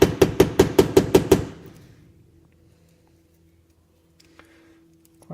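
A cutting disc being lightly tapped to crack it into a small disc for a rotary tool: seven quick, evenly spaced metallic taps close up, then faint quiet handling noise.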